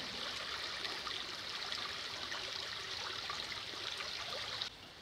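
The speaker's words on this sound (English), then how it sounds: "Lovely gurgling." A stream gurgles under a wooden footbridge near a pond on a countryside walk from Wadhurst to Tunbridge Wells, a faint, steady trickle and babble with no voices.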